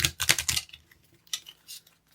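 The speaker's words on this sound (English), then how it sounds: "One more shuffle for good luck." Tarot cards shuffle in quick crisp riffling bursts, close and fairly quiet, followed by a few softer card flicks with no one talking.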